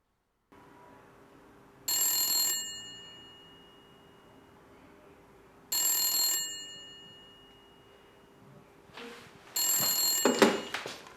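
A telephone rings in three separate bursts with pauses between them in an otherwise quiet room, the last ring cut off by a brief rustle as the call is answered.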